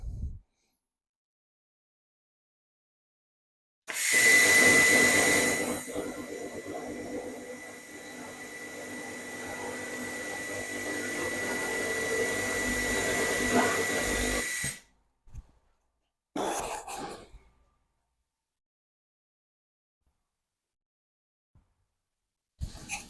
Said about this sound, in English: Yeah, it's burning right through the paint, right through the rust, everything.